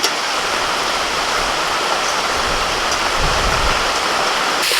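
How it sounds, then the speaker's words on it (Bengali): Heavy rain pours steadily and loudly during outdoor cooking, a dense continuous hiss with scattered drips and splashes and no voices. "রান্না হতে হতে জোর বৃষ্টি এসে গেল"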